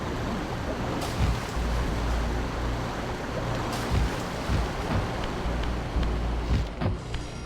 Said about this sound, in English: I think that just turns the water on